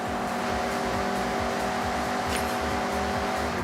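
A Mazda MX-5 in Forza Horizon drones steadily with a constant buzzing engine note at sustained revs, loud and unbroken throughout the short stretch.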